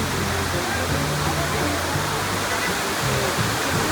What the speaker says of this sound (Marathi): इकडे धबधबा आहे.